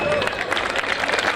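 An audience at a children's Ramayana dance performance breaks into a short, dense burst of clapping, with voices mixed in.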